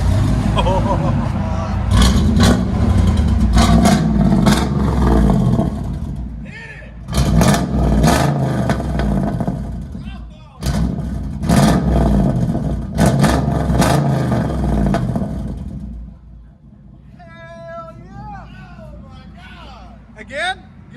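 A 2000 GMC Savana van with a 5.7L V8 and 3-inch straight-pipe exhaust, revving loudly in repeated bursts with short gaps, up close, then settling to idle while people talk and shout nearby.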